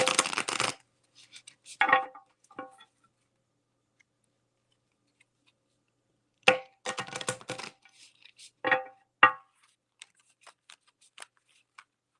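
Tarot cards shuffled by hand in two bursts of quick riffling, crisp slapping clicks near and close, separated by silence and trailing off into a few soft taps.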